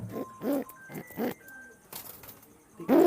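Chandrakhali cross-breed pigeon cooing up close, several short throaty coos in a rhythmic series with brief pauses, loud and alone without talk.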